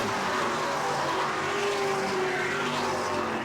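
Race cars circle the New Smyrna oval during an asphalt heat race, their engines a loud, continuous roar that holds steady throughout without a clear single pass.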